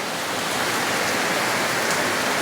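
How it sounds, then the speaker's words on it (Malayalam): Heavy rain pours down in a dense, steady hiss, loud and close, with no break and no voices. "പെരുമഴയാണ്"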